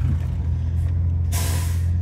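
A garbage truck reversing on a street lets out a sharp, loud hiss of air brakes midway, over a steady low diesel idle that rumbles on before and after.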